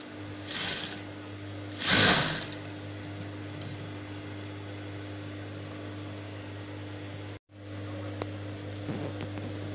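Sewing machine stitching a flounce ruffle onto a circular fabric base, a steady close mechanical whir running almost unbroken, with a couple of brief louder bursts near the start and a short stop before it resumes.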